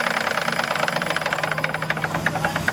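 A Märklin live steam engine, a compound 4158 on a power plant stand, chugs steadily at close range with a fast, even mechanical beat and light rattling and vibration, running alone without voices.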